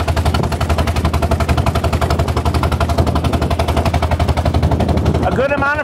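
A 1906 Sizaire-Naudin voiturette climbs a small incline at about 25 to 30 mph in a neighborhood, its engine thumping in a fast, steady, loud rhythm that runs throughout, with a brief squeal near the end.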